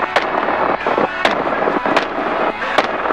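Gunfire from a helicopter during a hog hunt, several sharp reports spaced about a second apart over constant rotor and wind roar, with voices talking in the background.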